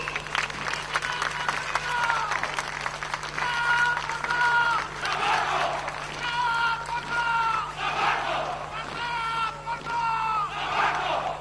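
A crowd applauds during a military parade at a national gathering of Lagunari amphibious troops, steady clapping and cheering in waves, with a loudspeaker voice and brass music mixed in.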